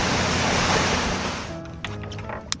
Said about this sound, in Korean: 아 근데 바람이 너무 세다